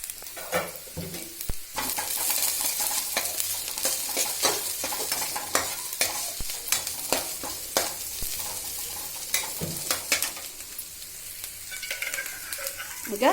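Green chillies frying in hot oil with onion in a pan for mutton fry, a steady close sizzle broken by frequent scraping stirs and clatters of the spoon against the metal.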